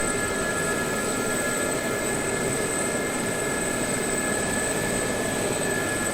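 A Gazelle helicopter lifts off in the DCS World flight simulator, its turbine whine and rotor roar forming a loud, steady, unbroken drone with sustained high tones throughout.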